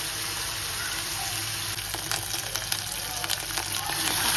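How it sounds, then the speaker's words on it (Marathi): Paneer fries on high gas in a pan as curd water releases, making a close, loud, continuous sizzle with sharp spatters that grows slightly toward the end. "आता मी इथे पनीर पण फ्राय करून घेते."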